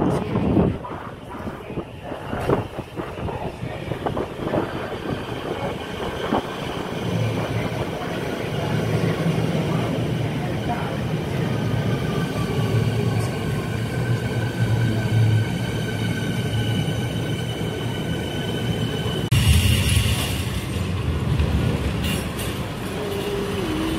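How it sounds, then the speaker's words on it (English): Siemens Craigieburn line train at a Melbourne station, a broad steady rumble of the train moving along the platform with a faint whine, fairly close, continuing for the whole stretch. "Okay, so quick Craigieburn train."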